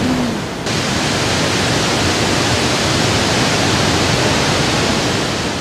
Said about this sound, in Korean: 크고 작은 폭포들이 서로 엇갈리며 물줄기를 쏟아냅니다.